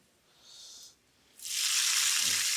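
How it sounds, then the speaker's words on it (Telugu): Spices tempering in hot oil for mango dal give a short hiss, a brief pause, then a loud, sustained sizzle that swells up and holds close and bright until the end, with no voices. "మంచి సౌండ్, మంచి స్మెల్ వస్తుందండి తాలింపు పెడుతుంటేనే"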